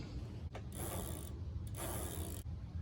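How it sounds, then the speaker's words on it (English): A socket ratchet wrench clicks in quick bursts while tightening the lockring on a bicycle's rear wheel cassette gears, two close clicking runs separated by short pauses, fairly quiet and with no talking. "just crank it down with your socket, nice and tight"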